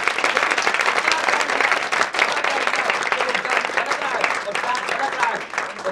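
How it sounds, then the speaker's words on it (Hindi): Audience applause for two brothers at a guru's address, dense steady clapping from a crowd that holds for the whole stretch, with a voice faintly audible beneath it. "आप दोनों भाइयों के लिए ताली बजा के"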